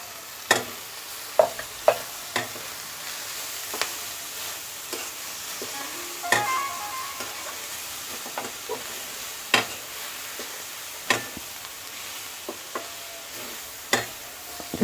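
Raw turmeric and red chili powder fry in a pan with a steady low sizzle, punctuated by a dozen or so sharp clicks and scrapes from a stirring utensil. The stirring strokes come at an uneven rhythm, close and clear, with no voices.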